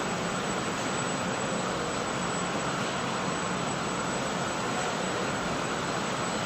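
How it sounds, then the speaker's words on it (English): Constant loud high-pitched mechanical whine and roar from vacuum pumps and variable-frequency drive motors on a brewery beer production line, steady throughout, with no voices. "that high-pitched background noise you hear is a mixture of vacuum pumps and VFDs for the drive motors"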